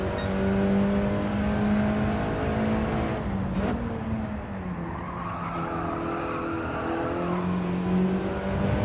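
Four-wheel-drive race car cornering in Gran Turismo 7, engine droning steadily with tyres skidding and squealing through the bend, loud and continuous throughout.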